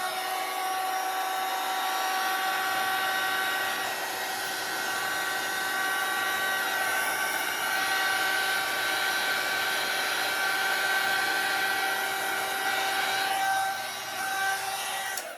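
Hair dryer drying alcohol inks on a large Monstera leaf, a steady loud close blowing whir running without break and easing off at the very end.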